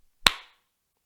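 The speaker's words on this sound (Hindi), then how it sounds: "मैं क्लैप करने लगा हूँ, डर ना जाइएगा" A single sharp hand clap rings out close and loud in an otherwise quiet room, followed by a brief decaying tail.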